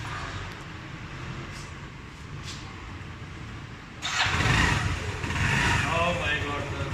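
A motorcycle engine fired up after an oil change: a low background rumble for several seconds, then the engine catches about two-thirds through and settles into a loud, steady close-up running note.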